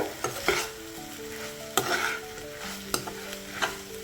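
A spoon stirs aviyal, a mixed vegetable curry, in a pan, with several sharp knocks and clanks against the metal over a soft background sizzle and a faint ringing tone.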